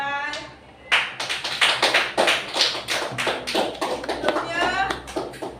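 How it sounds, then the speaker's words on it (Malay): Children in a classroom clap together for classmates' paintings, a dense run of sharp, close hand claps continuing for several seconds, with kids' voices chattering over it. "Okey, tepukan."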